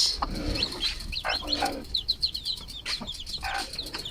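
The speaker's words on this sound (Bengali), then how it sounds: "এই যে আমাদের মুরগির ছোট ছোট বাচ্চা, তার সাথে একটা রাজহাঁস।" Chicken chicks chirp and cluck in short, scattered bursts, with a few lower honking calls from a goose mixed in, fairly near and moderately quiet.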